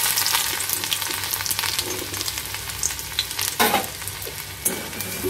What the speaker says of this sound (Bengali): সেই রসুন কুচিটা আর আদা কুচিটাকে দিয়ে দেবো প্রথমে